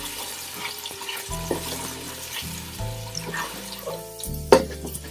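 Garlic-ginger paste frying in a pan with onions, a steady close sizzle with stirring clatter and a sharp utensil knock near the end, no talk.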